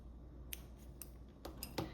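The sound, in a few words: scissors cutting crochet yarn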